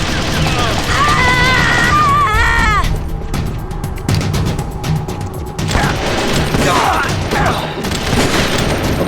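Gunfire in the video game Metal Gear Solid: Twin Snakes, loud rapid bursts of shots and booms mixed with game music and voices, continuing through most of the passage.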